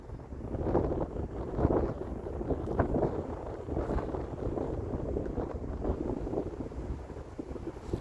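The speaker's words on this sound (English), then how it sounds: "the wind's behind me, so I'm not speaking in the wind, but can you hear it blow?" Wind blows outdoors, a steady low rumbling rush with gusty buffeting against the microphone, moderately loud and continuous with no voices over it.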